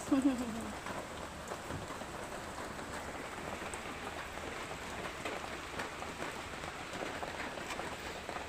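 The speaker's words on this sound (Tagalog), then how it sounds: "Alam mo umuulan" Rain falls steadily on a rainy morning, making an even, continuous patter of drops on a surface. A brief voice is heard at the start.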